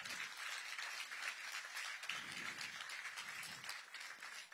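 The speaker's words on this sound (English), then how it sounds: "Give council member White a big round of applause." Audience applause at an outdoor groundbreaking ceremony in Ward 8, a continuous, fairly faint wash of clapping with some voices underneath.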